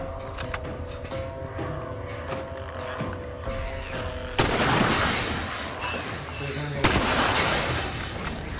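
Gunfire while shooting clickers in The Last of Us, with two sharp, loud gunshot blasts ringing out over a steady game background, and voices talking at times.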